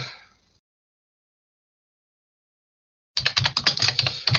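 Close, crisp typing on a computer keyboard. A short burst of key clicks fades out, a long silence follows, then a dense run of rapid clacking resumes near the end.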